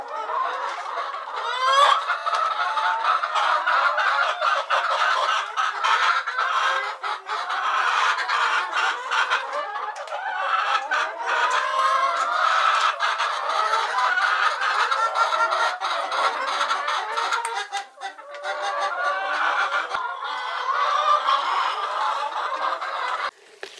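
Chickens cluck and chatter constantly inside a chicken house, a dense, busy flock murmur close by with occasional louder squawks and a distant crow.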